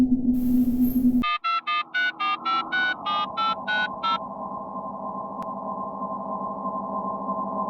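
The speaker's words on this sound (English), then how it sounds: "Someone's calling the spooky phone." A spooky phone rings with a rapid series of about ten pulsed electronic tones after a brief burst of noise, then fades into a steady low droning tone.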